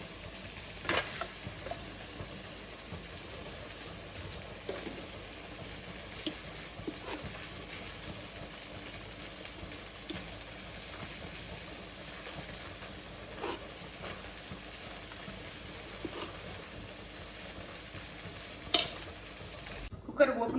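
Chopped okra sautéing in a pan, a steady low sizzle with scattered scraping and stirring clinks from a utensil throughout, a sharper clatter near the end.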